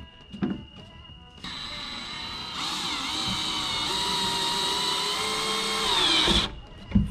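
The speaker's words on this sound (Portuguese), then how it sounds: "Eu preciso parafusar, não adianta" Power screwdriver whirring steadily for several seconds while driving screws into a Fiat Palio speaker box, close and loud, rising in pitch near the end before stopping abruptly.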